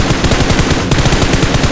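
Rapid automatic gunfire from PUBG Mobile rattles in a fast, even, loud burst that runs through the whole short moment, very close and unbroken.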